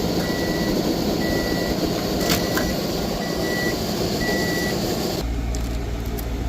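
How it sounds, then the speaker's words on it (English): A microwave oven heats a yakisoba steak dinner inside a teardrop trailer, giving off a steady loud hum with a few spaced beeps before the running noise drops off near the end. "we're going to microwave up this yakisoba steak"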